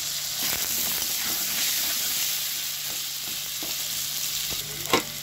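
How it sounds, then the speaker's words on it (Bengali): Potato pieces frying in hot oil in a wok, seasoned with salt and turmeric, give a steady, bright sizzle that runs through the whole stretch, with a few scraping stirs and a sharp clink near the end. "আলুগুলো ভাজা হয়ে গেছে"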